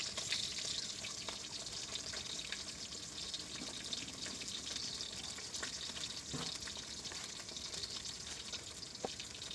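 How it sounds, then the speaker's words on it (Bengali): Rohu fish frying in oil makes a dense, even hiss that carries on without a break, with faint occasional pops and clicks and no voices, heard at a moderate distance. "দেখো এখানে মানে মাছ ভাজা হচ্ছে"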